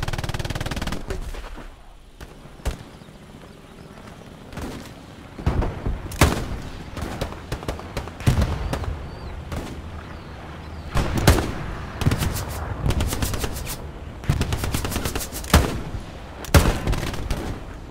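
Bursts of gunfire from a machine-gun nest in the WWII shooter Hell Let Loose, sharp cracks and short rattling volleys scattered across the scene at mixed distances, with a few louder nearby shots.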